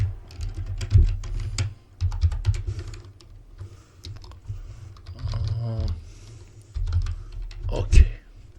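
Keystrokes on a computer keyboard come in short bursts of close, clicky taps with pauses between them, while someone talks over the typing.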